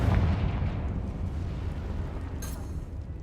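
A Confringo spell blasting in Hogwarts Legacy makes a fiery explosive boom at the start that rumbles and decays into a crackling roar, with a brief hiss burst near the end and no talking.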